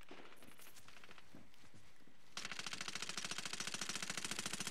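In the Medal of Honor: Warfighter beta, automatic gunfire bursts into a rapid, loud, evenly spaced rattle for the last two seconds. Softer shots and shuffling come before it.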